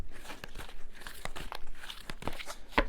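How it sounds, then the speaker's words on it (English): Tarot cards are shuffled by hand in a series of soft riffling and crinkling bursts with an irregular rhythm, close and fairly quiet. "So I'm just going to shuffle your cards now"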